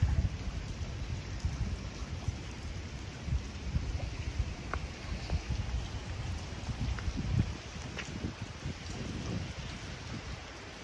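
Heavy rain easing off in Fujairah, a constant broadband patter of drops on hard surfaces with occasional sharper splashes, moderately loud and steady throughout, no voices.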